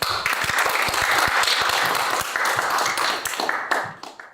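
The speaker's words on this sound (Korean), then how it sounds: "큰 박수로 환영해 주시기 바랍니다" Audience applause at a Korean policy forum on real estate, a full room clapping steadily and loudly for about four seconds before fading out at the end.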